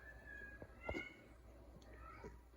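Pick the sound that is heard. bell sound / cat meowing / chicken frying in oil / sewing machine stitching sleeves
cat meowing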